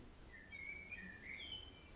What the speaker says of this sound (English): It's just birds tweeting.